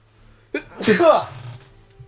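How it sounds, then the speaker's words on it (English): A single sharp sneeze, a quick intake of breath followed by a loud burst, close and alone. "There's a sneeze coming."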